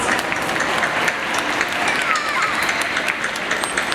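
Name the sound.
audience applause at dolphin show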